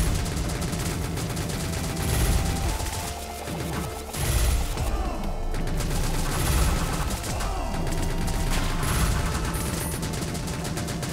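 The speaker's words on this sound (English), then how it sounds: "Contra gun seems super powerful." Rapid gunfire from the Contra gun in the video game Greedy Guns, a dense, sustained stream of shots layered over busy game music and effects, loud and continuous throughout.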